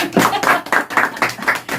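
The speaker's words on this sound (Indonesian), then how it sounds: "Tepuk tangan untuk manajemen." A group in a campus setting claps hands in a quick, even rhythm of about seven close, loud claps within two seconds.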